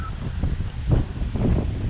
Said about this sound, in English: Guess it's too windy.